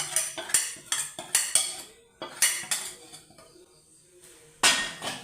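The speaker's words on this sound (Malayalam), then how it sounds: "നമുക്കൊന്ന് ഇളക്കി കൊടുക്കാം" A metal spoon clinks and scrapes repeatedly against a pan while spice powders, including asafoetida, are stirred into mustard seeds fried for sambar tempering; the close, irregular knocks come in bursts with short pauses and no talk.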